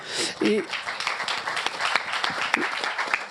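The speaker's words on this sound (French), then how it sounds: "Merci beaucoup, on peut applaudir Léa" Audience applauding at a French solar industry conference round table, a dense patter of claps lasting a few seconds with a voice briefly heard over it.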